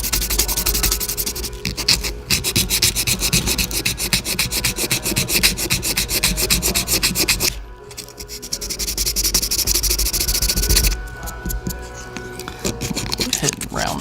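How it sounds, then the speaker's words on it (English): Close, loud back-and-forth rubbing of 60 grit sandpaper on a hard poly ski insert during a tune, continuous strokes with a short pause midway, a voice talking faintly underneath. "I know it looks like I'm doing a lot of sanding"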